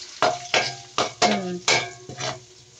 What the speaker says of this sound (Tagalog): Purong bawang ang ating iginisa